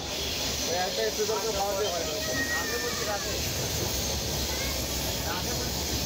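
Steady rushing rumble and hiss of a moving passenger train from inside a hot, crowded carriage, with people chatting faintly beneath the noise.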